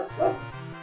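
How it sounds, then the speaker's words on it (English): A domestic dog gives a single short bark at close range, clear and brief. "As you heard, the dog was barking"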